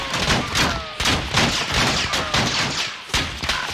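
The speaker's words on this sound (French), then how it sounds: "Il tire, hein." Gunfire in Call of Duty Warzone pops in several sharp bursts and single shots, loud and near, spaced irregularly over a few seconds, with faint voices underneath.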